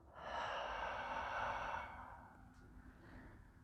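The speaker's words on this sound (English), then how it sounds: "Take one last deep breath in. And slowly exhale it out." A single slow, deep exhale of breath during a hamstring stretch, a long breathy rush that stays steady for over a second and then fades softly, close and alone.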